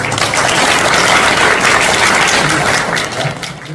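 Loud, dense applause from an audience opening a Jincheon future-city special committee launch ceremony, a continuous wash of many hands clapping that fades slightly at the end.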